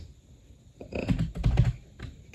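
Keys clatter on a computer keyboard as a slash command is entered in Minecraft, a quick burst of close, moderately loud clicks in two short clusters.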